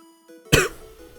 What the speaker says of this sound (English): Bad cough. Bad cough.